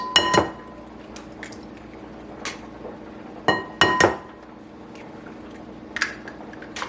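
Three eggs cracked into corn flour muffin batter in a mixing bowl, a few sharp clinks of shell against the bowl's rim spread across several seconds, close and clear against a quiet background.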